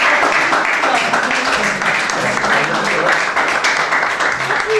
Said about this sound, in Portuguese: Mereces um beijinho na testa e um grande salve de palmas.